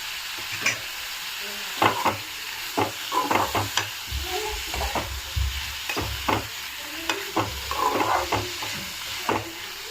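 Broad bean (chikkudukaya) fry sizzling in a pan while being stirred, with a steady frying hiss broken by repeated scraping and clinking strokes of the spoon against the pan, close up, with no speech.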